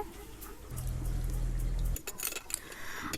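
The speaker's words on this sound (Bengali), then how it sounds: "চুলো ধরিয়ে নিয়েছি, কড়া চাপিয়ে দিচ্ছি। কড়াতে আমি সাদা তেল দিয়ে দিচ্ছি।" A wok set on a lit stove and white oil poured in, a soft clunk of metal followed by a brief low pouring sound, then faint clinks, quiet and close.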